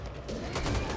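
Gunfire in the zombie shooter video game Back 4 Blood, a quick rattle of several shots over a dense, loud game mix.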